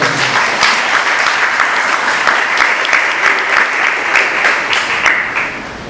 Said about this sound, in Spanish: Dale un fuerte aplauso, papá.